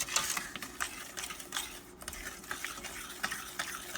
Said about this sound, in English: I'm going to stir and wait for this to come to a boil.